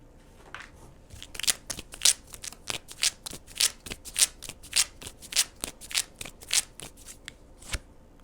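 Oracle cards being shuffled by hand, a long run of crisp riffling bursts in a steady rhythm, close and fairly loud with no talking.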